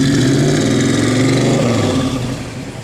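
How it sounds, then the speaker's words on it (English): The engine of a 1966 Mercury Comet Cyclone GT convertible, parked, revs loud and close in a sustained throaty roar that eases slightly toward the end. "Go ahead and give it a rev."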